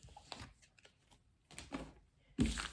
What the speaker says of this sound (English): Shuffle the cards like this.